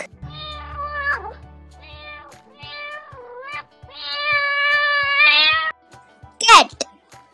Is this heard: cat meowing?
yes